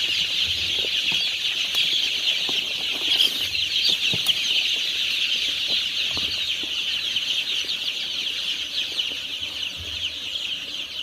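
Local chicks in a brooder during cold weather, a continuous high chorus of peeping and cheeping with light scratching and fluttering movement, moderately near and steady throughout.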